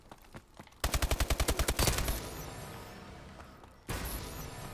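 Gunfire in Call of Duty: Advanced Warfare multiplayer on the Quarantine map: a quick burst of about ten evenly spaced automatic shots, then a crash and rumbling game noise, with a second loud hit near the end.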